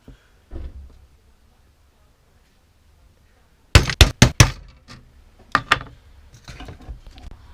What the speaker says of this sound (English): I'm just going to centre punch each corner